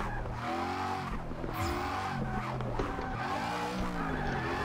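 A car in the Forza 6 video game skids from too much e-brake while drifting the Nürburgring, with loud tire squeal and a revving race engine in continuous sliding bursts, close and with no talk.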